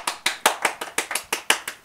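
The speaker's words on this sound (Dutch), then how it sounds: "Applaus voor James" About a dozen crisp, evenly spaced claps from a small studio audience applauding a guest, each clap sharp and close with a quick decay, no talking.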